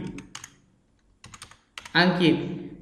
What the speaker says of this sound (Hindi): फिर आप क्या करेंगे स्मॉल में नाम लिखेंगे, जिसे लिख दे रहे हैं अंकित,